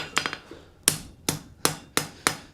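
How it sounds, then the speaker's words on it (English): A blacksmith's hammer strikes hot metal on an anvil while squaring a corner, landing about seven sharp, ringing blows in a steady rhythm, close and loud with no talking. "we'll hammer that to where you got a nice flat square corner"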